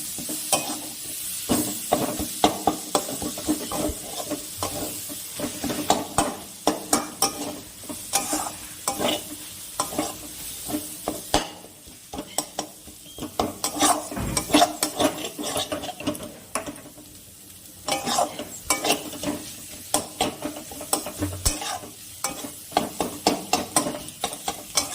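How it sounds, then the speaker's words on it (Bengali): Kakrol seeds are stirred into onion and green chili frying in a pan, with a spatula scraping and clattering repeatedly over a soft, steady sizzle. "আমি কাঁকরোলের দানাগুলো সব এই পেঁয়াজ আর লঙ্কা কুচিটা যে ভেজে রেখেছি ওর মধ্যে দিয়ে দিলাম। দিয়ে এটাকে আরেকটু আমি কষিয়ে নেব।"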